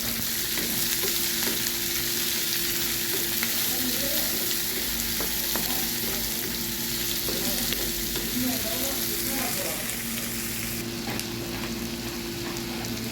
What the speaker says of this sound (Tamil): பச்சை மிளகா கருவேப்பிலை வெங்காயம் சேர்த்துருக்காங்க நல்லா கிண்டி விட்ருக்காங்க